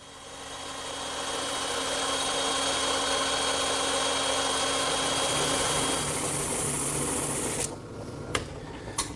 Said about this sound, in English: that's another job for the bandsaw.